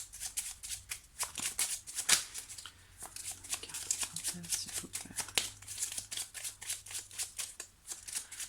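Tarot cards being shuffled and drawn make a rapid series of crisp flicks and papery snaps, close and fairly loud, repeating irregularly throughout.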